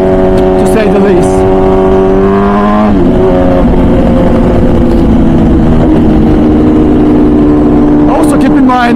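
An MV Agusta Brutale 1000 RR naked superbike, 215 horsepower, roars at high speed on the Nurburgring, its loud sustained engine note holding steady, dipping briefly as the rider shifts gear, then climbing again.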